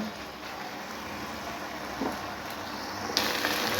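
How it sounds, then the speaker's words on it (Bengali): Mutton mince sautéing in a hot pan, a quiet steady sizzle with a faint scrape or stir near the end. "কিমাটা দিয়ে আমি ভালো করে এটা আবার কষিয়ে নেব।"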